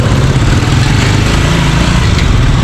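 A Suzuki motorcycle engine runs steadily at a loud, close idle, a continuous buzzing drone with no pauses and no voices over it.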